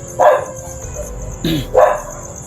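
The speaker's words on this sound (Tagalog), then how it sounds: "Yung matahol na yung mga aso mga idol." A dog barks a few times nearby, sharp separate yaps over a steady background hum.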